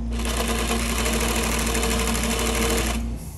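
A vintage Singer 47w70 darning machine runs fast and loud while stitching denim, producing a rapid, even mechanical clatter with a motor hum for about three seconds before it stops, with no voices.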